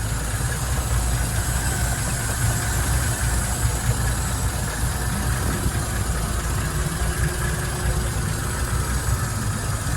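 A 220 HP Mercruiser 4.3L MPI V6 in a 2005 Bayliner 195 idles steadily, a smooth, even low rumble that stays constant and close throughout with no talk over it.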